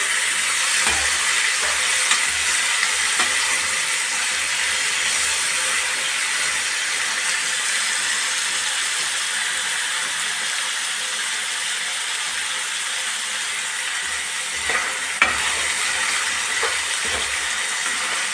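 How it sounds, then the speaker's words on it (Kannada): Tomatoes with Byadagi chilies fry in a pan, giving a steady broadband hiss and sizzle that holds evenly throughout at close range, with a couple of faint clicks and no speech. "ಟೊಮೆಟೊ ಹಾಕಿ ಹುರ್ಕೊತಾ ಇದ್ದೀನಿ"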